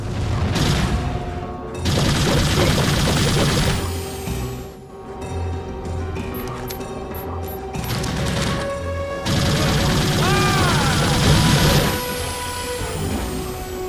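Gunfire in the sci-fi shooter Mace Griffin: Bounty Hunter comes in loud, dense bursts of rapid shots with booming impacts, pausing briefly around the middle and then resuming at full intensity.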